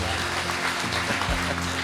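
Audience applause at a Philippine political gathering, a dense wash of clapping over a sustained low hum and background voices.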